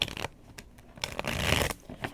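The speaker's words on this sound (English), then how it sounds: "I'm going to do one more shuffle" A deck of tarot cards is shuffled close up in short, papery riffling and scraping bursts separated by brief pauses, with no talk over it.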